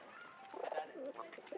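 A pigeon perched on a man's head coos softly in a few low, rolling phrases, close by with a quiet outdoor background.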